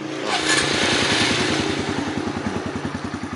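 A Honda MSX motorcycle fires up by remote start, a short cranking clatter settling straight into a loud, close, rhythmic single-cylinder idle with steady thumping pulses.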